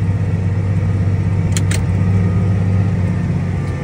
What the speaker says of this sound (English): tractor driving itself, going around the turn.